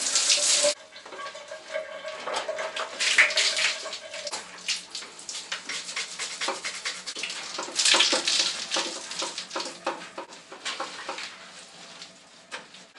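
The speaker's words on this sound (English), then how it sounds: "it just gives me a chance to rinse off the bike and then lightly wash all the mud" Water from a hose or tap splashes and rinses mud off an upside-down bicycle indoors, a continuous irregular spray and patter with louder gushes at the start and near the middle.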